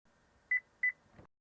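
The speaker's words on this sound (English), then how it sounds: "press and hold lock and unlock at the same time until the vehicle beeps" A Chevrolet Tahoe (GMT900) chirps twice during key fob programming, two short, clear, evenly spaced electronic beeps, followed by a faint click.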